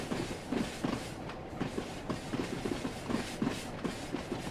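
A military freight train hauled by a class 47 in Train Sim World 6 rolls along the rails with a steady rumble and rhythmic clickety-clack of wheels over joints, loud and continuous.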